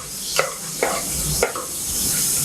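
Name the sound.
chopped vegetables being sautéed in oil for pulao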